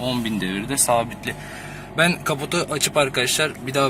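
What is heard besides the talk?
No distinct noise like a dog, phone or traffic.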